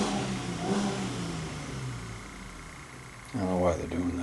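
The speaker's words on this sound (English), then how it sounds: "There's a vehicle starting outside on the main street." A vehicle starts up outside on a main street at night near a cemetery, its engine rumbling at a distance and then rising suddenly to a louder rev near the end, over steady background noise.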